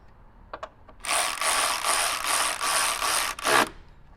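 Ratchet wrench tightening a 10 mm bolt on a BMW G20 B58 or G80 S58 during a flex fuel kit install, a few faint clicks followed by a loud, steady stretch of rapid ratcheting close up.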